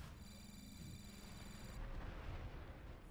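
Gunfire and explosions from the online shooter Planetside 2 rumble as a dense, continuous low boom with crackling bursts, fairly loud throughout, while a steady high electronic tone fades out partway.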